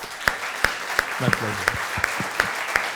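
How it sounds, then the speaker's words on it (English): Applause from an audience at an evening talk, steady and moderate, with a voice speaking briefly over it. "I request the audience for a thundering round of applause."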